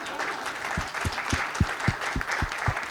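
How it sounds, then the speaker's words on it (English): An audience claps and applauds steadily, a dense wash of hand claps with a few sharper distinct claps standing out near the front. "Please give me a huge round of applause."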